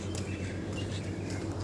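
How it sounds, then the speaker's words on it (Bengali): Birds chirping and calling along an empty road before dawn, a scatter of faint high tweets over a steady low hum, with no talking. "পাখিগুলো ডাকতেছে, মনে হচ্ছে গ্রামে আছি।"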